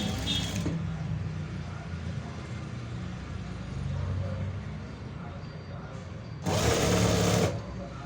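A sewing machine stitches a blouse with a steady, close, continuous motor whir and rapid needle chatter that runs throughout, briefly louder near the end.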